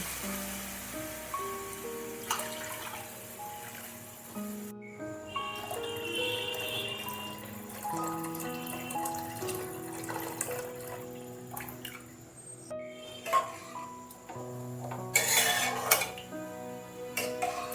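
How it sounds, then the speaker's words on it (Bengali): Water poured from a bowl into a pot of rice, three bowlfuls, heard as quiet splashing pours broken by clinks and clatters of utensils, fairly faint and close. "বাটির মাপেই দিয়ে দিচ্ছি 3 বাটি জল"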